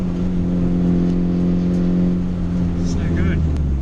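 Car fitted with a swapped-in big-block engine, driving along with a loud, steady low engine drone and harmonic rumble throughout, holding a constant note rather than sharp revs.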